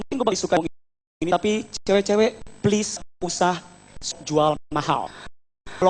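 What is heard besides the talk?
None of the usual background noises is heard.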